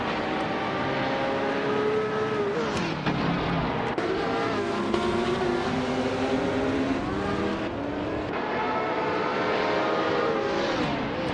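1970 prototype race cars, including a Lola T70 and a Ferrari 512S, lap continuously in a racing video game, with loud, steady engine drone and rising and falling pitch as they shift and pass. No voices are heard.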